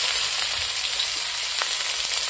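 Bay leaves and onion frying in hot oil in a wok for a village-style fish head and banana flower dish, a steady close sizzle with faint stirring clicks throughout, no talk.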